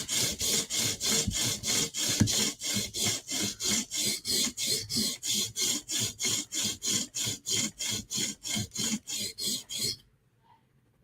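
Steady back-and-forth strokes of a knife being sharpened on a stone, worked near the heel of the blade, about two dozen even rasping passes in a regular rhythm, close and fairly loud, stopping abruptly before a brief silence.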